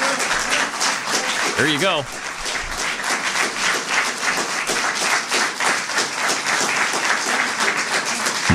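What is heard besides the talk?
applause, clapping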